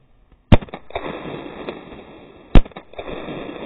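Two sharp firework explosions about two seconds apart, each a loud bang followed by crackling and a lingering hiss, close to the listener.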